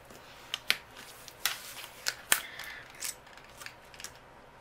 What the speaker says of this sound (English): I'm going to bring in my Peridot cardstock, and then we're going to die cut out some leaves.